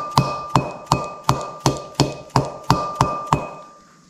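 New bearing seal on a 1970 Chevy C10 being driven in with a length of 2.5-inch tubing: nine sharp metallic taps at a steady, even rhythm, each ringing briefly, close and clear with no talk.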